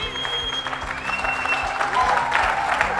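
A crowd at a motivational business event for a direct-selling team bursts into loud, dense applause with some cheering, while a faint whistle-like tone rises over the clapping.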